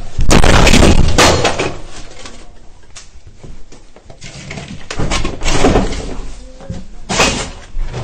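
A flat's front door is forced and opened as police enter, giving loud, irregular thuds and rattling bangs in bursts with quieter gaps between them.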